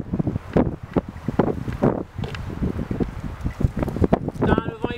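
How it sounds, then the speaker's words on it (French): Wind gusting across a spring campsite with patches of lingering snow, a steady broadband rush that swells and eases over the whole stretch, close to the microphone and buffeting it, with people talking throughout. "le vent il vient de derrière maintenant"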